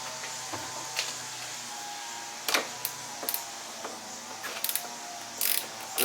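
A 1/4 inch drive ratchet tightens 1/2 inch battery cable nuts for a solar system, with sparse, faint clicks and ticks scattered over a steady background hum.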